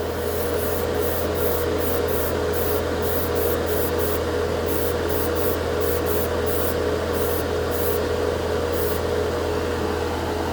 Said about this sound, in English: This is 12 PSI. This airbrush does not require a lot, but let's give it a shot.